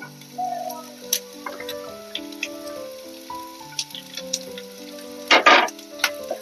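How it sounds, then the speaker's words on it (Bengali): Garlic fries in a pan for kalo jeere bhorta, with soft intermittent sizzling and crackling under gentle clicks and background music, capped by a brief louder sizzle burst near the end; no voice is heard. "আমি এর মধ্যে রসুন গুলো কথা বলতে বলতে দিয়ে দিয়েছি, তারপরে পেঁয়াজটাও দিয়ে দেব"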